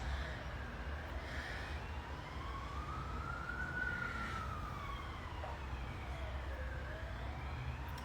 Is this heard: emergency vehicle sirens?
yes